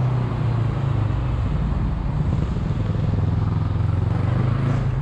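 Motorcycles pass on an open road, a steady engine drone and road rumble heard from a moving rider's position, with no clear single pass-by peak.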